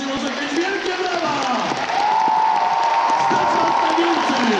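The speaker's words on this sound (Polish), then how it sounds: "Maciej Antkiewicz, może być wielkie brawa!" A convention panel audience at Pyrkon 2018 breaks into steady applause mixed with cheering, a dense crowd roar that holds and swells slightly over a few seconds, with voices audible through it.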